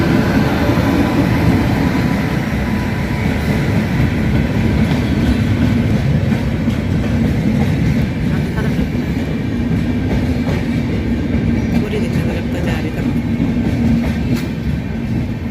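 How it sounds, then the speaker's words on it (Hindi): A Gaya to Chennai Central Express passenger train rolling past close by, a loud continuous rumble with rattling wagons and clickety-clack of wheels that holds steady throughout. "चेन्नई सेंट्रल एक्सप्रेस ये कौन सी आ गई भाई?"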